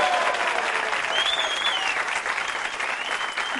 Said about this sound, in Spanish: ¡Un aplauso para ustedes!